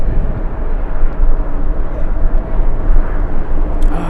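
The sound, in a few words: American Airlines A321 jet taking off at LAX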